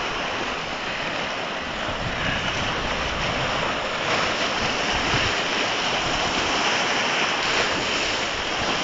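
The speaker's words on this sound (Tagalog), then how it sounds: "Masyadong malakas yung alon." Strong ocean waves crash and surge at the seashore under blustery wind, a loud, continuous roar of surf that fills the whole stretch without pause.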